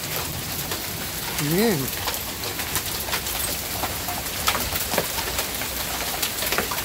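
A hail storm in Fords, New Jersey pelts the ground in a steady, dense hiss of impacts, with a man briefly exclaiming and a bird cooing faintly in the background.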